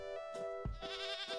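A goat bleats in the Minecraft modpack Enigmatica 2, a couple of short wavering bleats heard close over a steady tonal game music bed.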